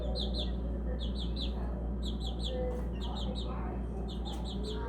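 Backyard chicks in a yard give clusters of high, repeated peeping chirps in short bursts over a steady low background hum, with no talk during the calls.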